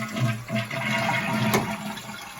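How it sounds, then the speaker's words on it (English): A household toilet flushes close by, a rushing, gurgling swirl of water that stays full and steady for a couple of seconds as the bowl drains and the tank begins to refill. "So I'll flush a toilet."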